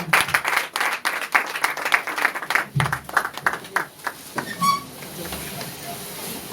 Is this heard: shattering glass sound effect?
no